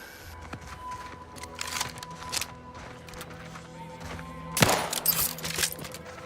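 Scattered gunshots in the video game The Outer Worlds 2 come as sharp single cracks over quiet ambience, then build into a louder, denser burst of fire near the end.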